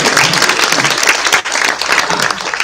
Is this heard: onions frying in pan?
no